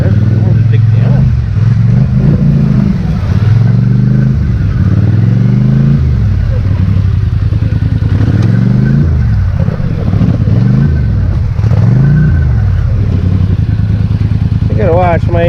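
A Polaris Sportsman 850 XP ATV runs on a dried, rutted trail, its engine loud and close, revving up and down in repeated surges while a rider talks over it.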